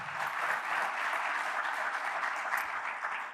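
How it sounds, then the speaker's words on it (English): Audience applause at a public lecture in a speaker series on housing, a steady dense clapping from a crowd heard alone and at an even level throughout. "So quick round of applause for that great support."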